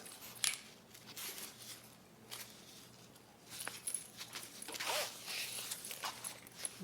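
A zipper on a range bag being sewn is handled and pulled in short quiet bursts, with faint clicks and rustling at close range in an otherwise quiet room.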